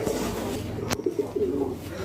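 German Beauty Homer pigeons coo in soft, low bursts among other birds, with a sharp tap near the start and steady background noise, a rooster kept nearby in the loft.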